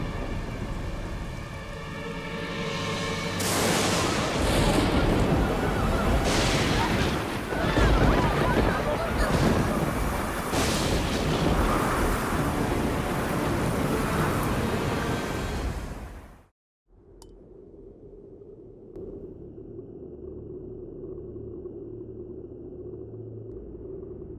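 A raging storm sends loud, rushing wind and crashing water roaring continuously for about sixteen seconds, then cuts off abruptly to a quieter, low hum.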